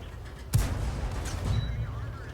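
A single tank cannon shot from a T67 in a tank video game booms out sharply, then fades into a steady rumble of game ambience with faint background commotion.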